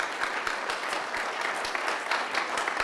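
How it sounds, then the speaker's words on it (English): An audience at a university graduate research presentation contest applauds the first student presenter, with steady moderate clapping filling the whole stretch, no voices over it. "So let's give a round of applause."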